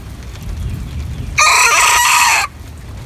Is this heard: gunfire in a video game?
no